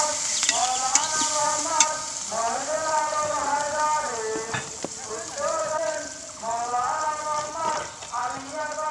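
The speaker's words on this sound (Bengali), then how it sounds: "পেঁয়াজ আর মরিচটা ভাজা হয়ে গেছে" Chopped onions and green chilies sizzle in a hot pan with occasional stirring clatter, a steady frying hiss running beneath someone talking for most of the time.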